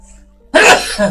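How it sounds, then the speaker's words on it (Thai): After a quiet hum, one loud, sudden sneeze bursts out close up, followed by a short breathy tail. "ร่วงจมูกเลยเวลาจามทีนะ"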